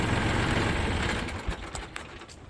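A tractor engine idling on a rural property, a loud steady broadband rumble with knocking pulses that fades slightly toward the end as it is shut off.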